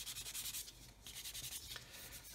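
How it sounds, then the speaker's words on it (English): Quiet rhythmic rubbing strokes of a fine sanding sponge on plastic, smoothing a 1/144 scale model aircraft kit, back and forth in short repeated passes, close and faint. "I'm going to get a very fine sanding sponge"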